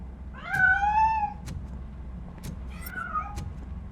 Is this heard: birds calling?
no